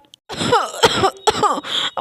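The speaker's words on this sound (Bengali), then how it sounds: "আমার তো খুবই কাশি হচ্ছে আর থাকতে পারছি না" A few harsh coughs and throat-clearing bursts in quick succession, close and loud, with short pauses between them.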